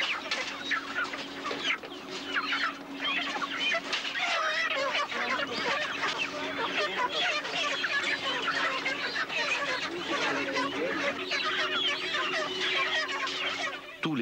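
Dense flock of chickens at a Breton poultry farm housing tens of thousands of birds, clucking and squawking continuously and fairly close, with a low steady hum underneath.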